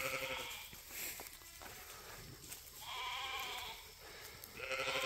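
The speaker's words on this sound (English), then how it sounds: "we have some Kiko Spanish cross goats here. The St. Croix Katahdin crosshair sheep." Kiko Spanish cross goats and St. Croix Katahdin cross sheep bleat on a farm, several drawn-out calls rising and falling in turn, close by over a low outdoor background.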